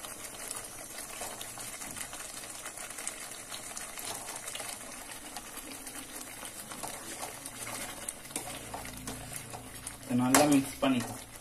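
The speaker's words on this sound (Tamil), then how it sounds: "நல்லா மிக்ஸ் பண்ணிக்கலாம்." Paneer is stirred into onion masala in a pan, giving soft scraping and sizzling with a louder clatter of utensil against pan near the end, while a person talks quietly in the background.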